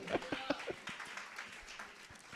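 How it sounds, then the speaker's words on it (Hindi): A church congregation claps for the Lord in quick, rhythmic beats, fairly faint and mixed with voices talking. "ताली बजाएंगे प्रभु के लिए, हालेलुया।"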